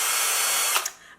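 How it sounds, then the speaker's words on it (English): A power drill whines steadily into a bedroom wall to hang a mirror, close and loud for about a second before it stops abruptly. "So to hang a mirror on the wall, you will need a drill"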